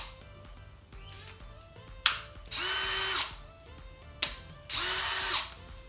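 A DeWalt 20V Max DCD777 brushless cordless drill/driver fitted with a 1/4-inch bit runs alone in two bursts of about a second each, with sharp clicks and trigger whirs between the runs.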